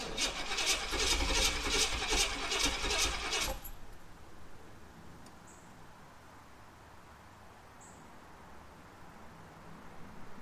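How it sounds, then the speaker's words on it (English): A 1991 Trans Am with a TPI engine and a no-start fault cranks with a rapid, steady rhythmic chugging for a few seconds, then stops, leaving only a quiet background hum. "I'm going to give it a couple cranks."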